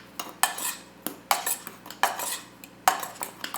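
Spoon clinking against a bowl while mixing vanilla crescent cookie dough made with almond flour and vanilla sugar, with about six sharp scraping knocks spaced irregularly, close and moderately loud, no talking.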